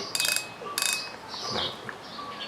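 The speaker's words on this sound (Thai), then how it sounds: "คลิกเสียงดังดี" Two quick bursts of rapid ratcheting clicks from the clicker of a PENN 5500 SS fishing reel, close and crisp, followed by faint mechanical handling noises.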